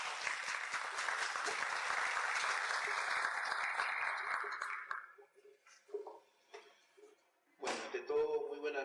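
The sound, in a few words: audience applause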